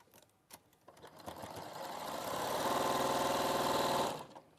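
A sewing machine stitches a seam at close range, starting with a few clicks, then running steadily and loudly for about two seconds with a fast rhythmic chatter before stopping abruptly.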